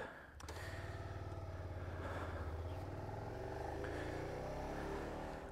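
A 2019 Suzuki SV650X motorcycle being ridden, its engine droning steadily and revving up through rising pitches over continuous wind rush, loud and close throughout.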